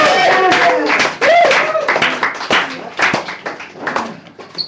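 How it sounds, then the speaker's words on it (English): At a poetry feature in a San Francisco café, scattered clapping greets poet Christina Desiree, mixed with loud whoops and cheering voices close by. The claps thin out toward the end. "please give a big warm round of applause for Christina"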